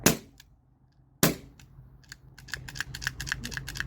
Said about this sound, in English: There's still pressure in this, so I'm just going to dry fire it.